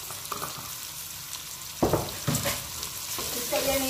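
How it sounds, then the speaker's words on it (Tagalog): Black pepper sizzles in hot oil as it is sautéed for pancit bihon and canton, a steady frying hiss with a few sharper stirring scrapes near the end. "Habang ginigisa."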